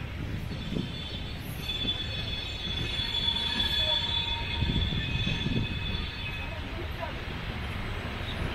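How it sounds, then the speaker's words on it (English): An Indian Railways express, the Guruvayur Chennai Egmore Express, rumbles past at close range with steady loud wheel noise and metallic squeals, heard from a waiting train on the Trichy to Nagercoil route. "That is the Guruvayur Chennai Egmore Express."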